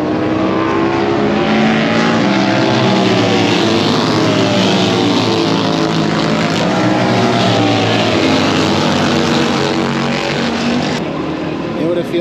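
A group of bagger motorcycles roars past in a dense, continuous wall of engine noise, loud and close throughout with layered exhaust rumble and no pauses.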